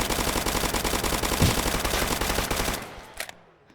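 Rapid automatic gunfire in a Roblox zombie-uprising game, loud and continuous bursts for nearly three seconds, then cutting off to a few fading shots and quiet.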